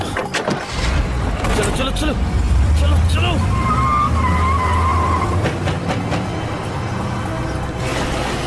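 A car engine running loudly and close with tires skidding, a dense rumble under a crowd of overlapping voices, in a tense police raid scene.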